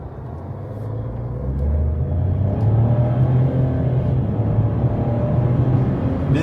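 A Chevrolet Onix car engine running on methane hums as a steady low rumble, swelling slightly after the first second and then holding a continuous drone throughout, close and fairly loud, with no talk.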